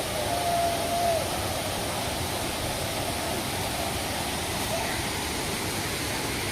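Mlamala Waterfalls near Kumily, a broad, steady roar of falling water pouring into a bathing pool, loud and continuous, with a faint voice briefly audible near the start.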